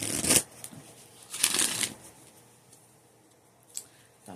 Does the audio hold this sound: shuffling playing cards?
yes